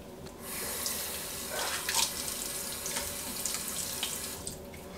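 Tap water runs steadily into a bathroom sink as someone wets their face, a continuous splashing flow with brief louder surges as hands dip into the stream, close and alone without talk.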